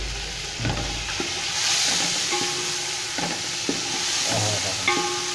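Tomatoes stirred into ginger-garlic masala frying in a pan, a steady close sizzle broken by repeated clinks of a spoon scraping the pan, no talk.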